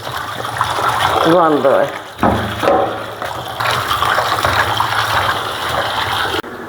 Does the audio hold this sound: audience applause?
no